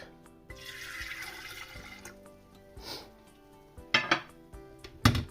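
Vinegar and water pour steadily into an electric kettle for a couple of seconds, followed by a few sharp clanks of a lid or vessel.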